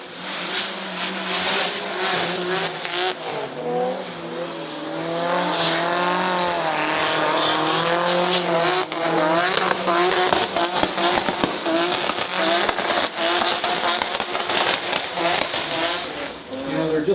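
Drift car at a plains drifting event screaming at high revs as its tires squeal and skid, loud and sustained with wavering engine pitch and bursts of noise, while an announcer talks over it.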